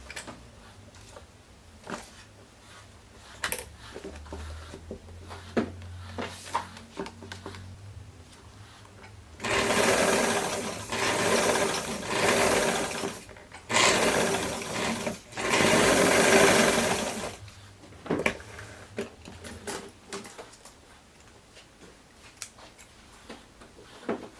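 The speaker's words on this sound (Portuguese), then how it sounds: "Aí agora eu posso vir aqui e costurar o restante" A sewing machine stitches a romper in a few close, steady runs lasting several seconds each, framed by clicks and fabric handling before and after.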